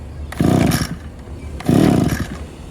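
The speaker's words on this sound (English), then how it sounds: "Let's give that a pull, Rob, see if it starts." A two-stroke engine on a farm is pull-started twice, each tug giving a short loud mechanical rasp and whir that fades without the engine catching.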